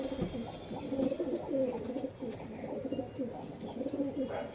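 Several Shahjahanpuri and desi giribaz pigeons at a sale coo nearby in low, throaty, rolling phrases that repeat steadily and overlap without pause, with faint background noise.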